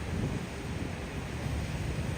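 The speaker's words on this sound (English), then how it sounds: "Windy and no rain, finally no rain." Steady wind roars and buffets against the microphone in Battery Park, New York, a constant broadband rumble with no other sounds standing out.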